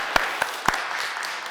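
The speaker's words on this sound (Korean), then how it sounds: "다 같이 박수로 환영하겠습니다" Congregation at a Sunday church service breaks into applause, opening with a few sharp separate claps that quickly merge into a sustained, even patter of many hands at moderate volume.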